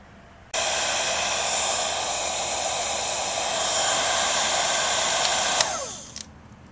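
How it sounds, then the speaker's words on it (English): A heat gun blows a steady, loud broadband hiss while shrinking heat shrink tubing during repair of a 1936 Philco Model 630B radio, running continuously for about five seconds before winding down. "And we have another heat shrink application."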